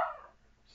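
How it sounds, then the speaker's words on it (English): A dog barks once, sharp and close at the very start, the sound fading quickly into a quiet room with no talking. "my dog is barking right now"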